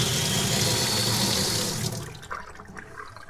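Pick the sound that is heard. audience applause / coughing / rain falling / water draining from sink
water draining from sink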